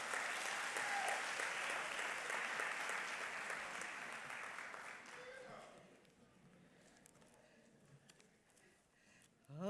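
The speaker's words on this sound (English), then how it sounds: "Let's give another round of applause to Mr." Audience applause at a high school graduation ceremony, loud sustained clapping that gradually thins out and fades to a quieter room, with brief voices near the end.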